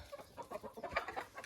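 A hen clucks in quick, uneven soft calls, repeated steadily over a farmyard hum, fairly quiet and with no voices.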